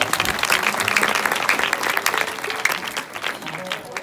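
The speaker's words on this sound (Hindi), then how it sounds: "एक बार जोरदार ताली हो जाएगी।" Loud, dense applause from an audience at a village comedy Ramayan stage performance, sustained clapping over its whole length with a steady roar and no voices on top.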